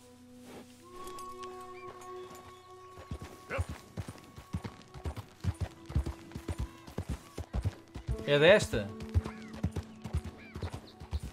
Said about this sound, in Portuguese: Eu não me entendo com este cavalo